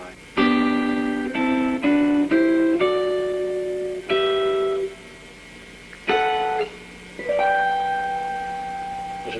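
Guitar playing simple triad chords one after another, with short plucked chords ringing briefly and then a few longer sustained ones, close and clean with gaps of silence between them.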